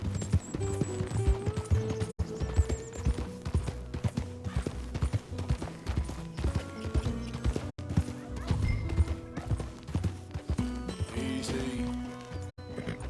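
Horse hooves clip-clopping at a steady walking rhythm, with a whinny, inside the video game Red Dead Redemption II, layered over game music and ambient tones, fairly close and continuous.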